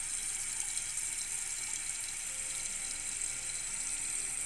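Water rushes steadily into a toilet tank through a Fluidmaster 400A fill valve, a constant hissing flow at moderate level with no breaks or talking.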